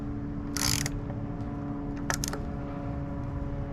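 A dual action truss rod on a Rickenbacker 360 six-string guitar being loosened with a tool, two short ratcheting metallic clicks over quiet room tone.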